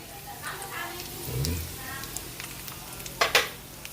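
Pork chop frying in a pan, with a steady sizzle and occasional stirring scrapes and clinks close up while someone talks over it.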